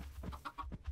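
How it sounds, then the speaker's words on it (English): A baby chicken in Minecraft gives a series of short, soft clucks, about five quick blips spaced evenly, fairly close and quiet with nothing else over them. "I just bred them, made a baby chicken."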